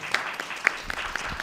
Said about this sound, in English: maybe I'll invite one more round of applause